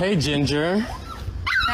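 A pet dog whines in high, wavering tones at close range for about a second, then someone speaks over fainter background noise.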